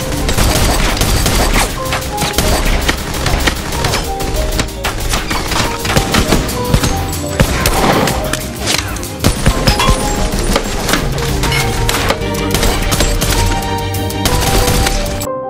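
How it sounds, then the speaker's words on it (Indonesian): Dense, loud gunfire from an action movie shootout, with a shotgun firing special armor-piercing rounds among rapid repeated shots and crashing impacts, continuous for the whole stretch. "Charon kemudian mengeluarkan senjata shotgun dengan peluru kaliber khusus yang diyakini akan bisa menembus baju pelindung lawan"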